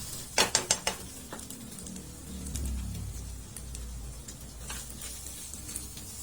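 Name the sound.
pork sisig sautéing and being stirred in a pan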